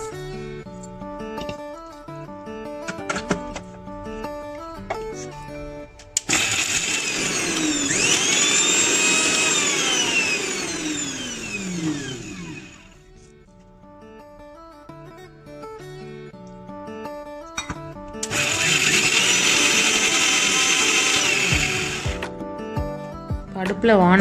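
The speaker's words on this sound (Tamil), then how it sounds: "இதை ஒரு மிக்ஸி ஜாரில் போட்டு நல்லா ஃபைன் பேஸ்ட் ஆக்கி ரெடி பண்ணிக்கலாம்." A mixie jar grinder whirs loudly in two separate bursts, blending sautéed village-style mutton gravy ingredients into a fine paste. A voice talks and background music plays in the quieter gaps between the runs.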